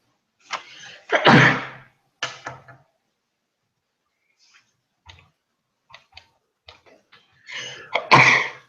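A single sharp sneeze-like burst, then quiet ticking and small noises, and another loud burst near the end; no talking.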